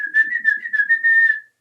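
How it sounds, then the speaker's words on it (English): A curandero, a traditional healer, whistles a wavering, slightly warbling tone to call in energy. The whistle is clear and close, holds for about a second and a half, and is heard alone before stopping abruptly. "you might find curandero whistling to bring in that energy to assist them with whatever they're doing"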